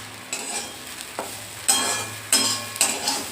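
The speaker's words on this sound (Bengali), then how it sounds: "আঁচ কমিয়ে রেখে আস্তে আস্তে ভেজে নেব" Food frying crisp in a pan over low heat, a steady soft sizzle with several louder bursts of stirring and scraping, close by with no voices.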